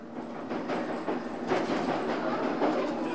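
Heard from on board, a London Underground District Line train to Wimbledon runs between Sloane Square and South Kensington with a continuous loud rumble, rattling wheels and rhythmic clicking over the rails.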